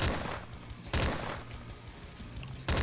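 Gunfire in the video game Slendytubbies 3: sharp, loud shots punctuate a rumbling backdrop, three distinct bursts spaced about a second or more apart.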